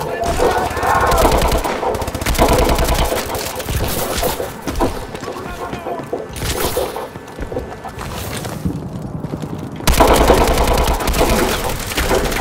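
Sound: rapid gunfire in video game Call of Duty Advanced Warfare

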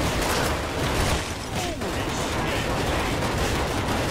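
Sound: gunfire in the video game NecroVisioN: Lost Company

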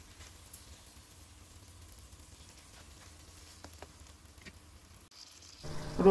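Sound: green chillies and garlic frying in oil

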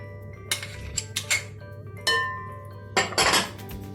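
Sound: mixing salad with pepper paste in a bowl

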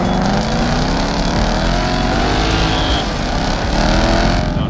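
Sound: Ford Mustang V8 turbo car doing burnouts

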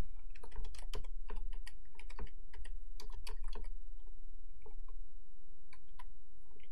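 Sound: typing Java code on a computer keyboard

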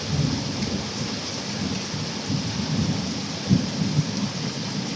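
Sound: heavy rain falling with thunder

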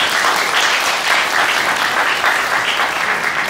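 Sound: wedding guests applauding

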